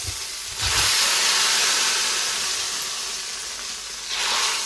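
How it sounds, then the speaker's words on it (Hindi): Spices for a tadka hit hot oil in a pan, bursting into a loud, hissing sizzle that swells, settles into a steady spitting hiss and surges again near the end, with no talk. "तो यहाँ पर लग गया है तड़का"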